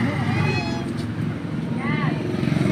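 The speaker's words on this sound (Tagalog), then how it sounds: "Mga pusa ng aking kapatid." Siamese cats meowing at home, with a couple of short, rising meows heard close by while people talk over them.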